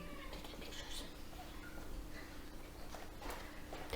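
A pet cat meows indoors, a few short faint calls mixed into steady room noise and background chatter.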